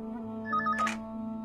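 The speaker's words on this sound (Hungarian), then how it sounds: "Vedd fel a telefont." A telephone rings with a short electronic trill of beeping tones over a steady background hum, briefly loud and clear.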